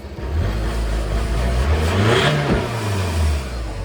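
A VW TDI diesel engine with a faulty turbo revs hard close by as it rolls coal, a loud rough roar that climbs and then falls back over a few seconds, with no talking.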